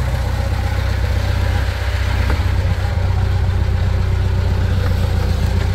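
A Lancer Boss 501 forklift engine idling, a steady, deep, rumbling drone that stays even and loud and close throughout, with no speech.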